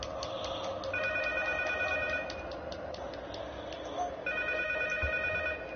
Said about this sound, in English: And there's the phone, guys.